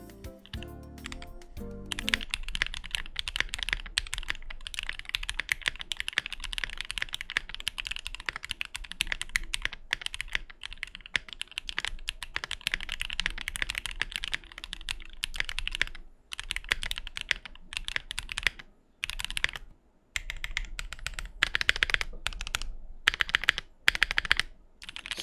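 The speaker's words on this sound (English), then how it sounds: "this keyboard is more on the higher pitch, clacky sound profile" Fast, steady clacking of keys on a Keychron Q4 60% mechanical keyboard, close and crisp with a higher-pitched clacky sound, with brief pauses between bursts of typing.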